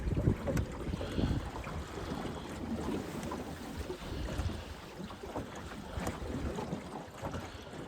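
Sailboat on Rutland Water turning downwind, with steady wind rush buffeting the microphone and water washing along the hull, continuous and fairly loud throughout.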